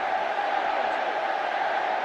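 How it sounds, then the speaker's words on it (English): A rugby league crowd at a Wigan v Warrington match keeps up a steady, loud roar, a broad wash of cheering from the stands with no distinct claps or single shouts. "The crowd well and truly getting behind him now"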